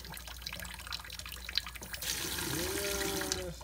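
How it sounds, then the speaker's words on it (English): Water from a kitchen tap runs into a blender jar while rinsing off smoothie powder stuck to its sides, a steady close splashing stream that rises and fills out in the second half. "just turn on the water a little bit."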